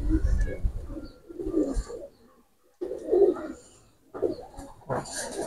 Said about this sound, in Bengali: এই দুইটা কবুতর আমি ছেড়ে দেখাচ্ছি।